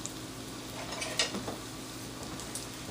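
A wooden spoon stirs rice and garlic through hot coconut oil in a pot, giving a steady close sizzle with soft scraping strokes and a few light knocks against the pot.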